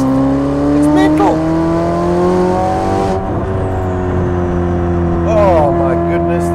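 A twin-turbo 3.9 litre V8 sports car engine revs hard and close, its rising harmonic whine climbing through gears with brief shift dips and tire noise, loud and continuous throughout.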